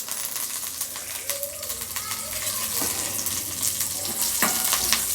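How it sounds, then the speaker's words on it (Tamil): Mustard seeds and curry leaves sizzle and crackle in hot oil, a steady fry with sharp pops through it. Faint speech can be heard in the background. "எண்ணெய் காந்துருச்சு கடுகு பொரிஞ்ச உடனே கருவேப்பிலை போட்டுக்கலாம்"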